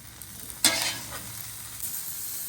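Potatoes and onions frying in a pool of oil on a flat-top griddle, a steady soft sizzle with one sharp scrape or stir near the start, close and alone with no talking.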